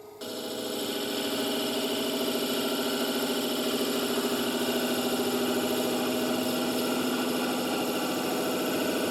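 A wood lathe parting off a turned piece spins up and holds a steady, loud whirring drone with a faint rhythmic chatter, running continuously without a break.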